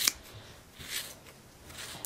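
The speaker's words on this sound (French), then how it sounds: "Ça prend des bons ciseaux." Scissors snip through wool yarn while a pompom is trimmed, giving a few soft, quiet cuts spaced irregularly in a faint close-up setting.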